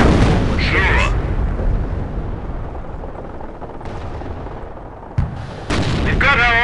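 Heavy gunfire and explosions sound in the WWII strategy game Company of Heroes, with sustained rifle and machine-gun bursts, booms, and soldiers talking over the battle.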